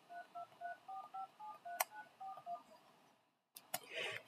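A Google Voice phone call gives a quick run of touch-tone dialing beeps, then a brief pause and a few more call tones. The tones are soft and close, with faint background hiss and no speech.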